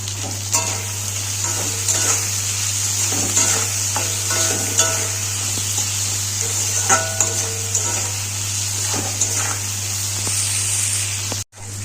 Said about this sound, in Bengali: নুন আর হলুদ দিয়ে আমি আলুগুলোকে ভালো করে ভেজে নেব।